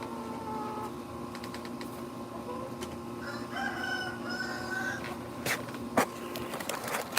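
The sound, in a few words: chickens clucking and rooster crowing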